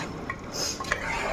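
Mango slices added to mutton curry and stirred in a pot, a brief close scrape and clink of a spoon against metal over a steady low cooking hiss, no talking.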